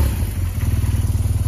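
A 2010 BMW R1200GSA motorcycle engine idles close by, giving a steady, throbbing low pulse with even, rapid beats and no other sounds.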